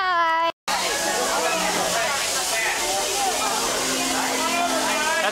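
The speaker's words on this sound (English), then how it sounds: "That's an authentic steam locomotive they have here at Disney." An authentic steam locomotive at Disney World hisses steam in a steady, loud, broadband rush, with crowd chatter and children's voices mixed beneath it.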